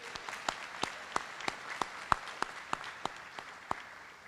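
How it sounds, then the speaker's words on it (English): Sparse applause at a school scholarship evening, a light spread of clapping under one steady pair of hands beating out distinct, evenly spaced sharp claps, moderately close. "A round of applause for our students."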